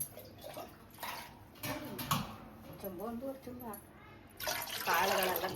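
Water from a jug is poured into a cooking pot on a gas stove to boil legumes. The splashing comes in short bursts and grows fuller near the end, mixed with nearby talk.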